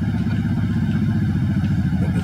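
A new dirt bike engine runs steadily in a Miami backyard, a continuous close, throbbing low rumble with faint voices in the background.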